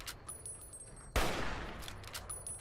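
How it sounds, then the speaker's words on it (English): Gunfire in Fallout New Vegas from a gunman, one sharp loud burst that erupts suddenly and trails into a rolling, noisy wash over a quieter game backdrop. "there is a gunman shooting me"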